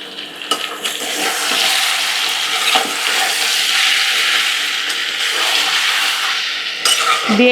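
Chicken pieces go into hot oil with browned onions on an induction cooker, bursting into a loud, steady sizzle as they are stirred, with occasional scrapes and clinks of a ladle.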